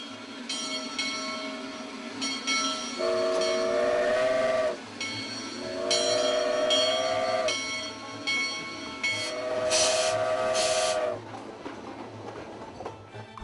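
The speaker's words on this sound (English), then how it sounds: "They'll show you how to operate a locomotive in the McEwen yards, make up a freight train and take it out onto the main line." Locomotive hauling a freight train in a rail yard in eastern Oregon, sounding three long, steady whistle blasts over a constant rumble of moving cars, with no speech.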